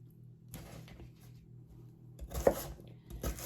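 A knife chops onions into a rough cut on a board for a crockpot comfort meal, a few scattered soft knocks with one sharper hit near the end, close and moderately quiet over a low steady kitchen hum.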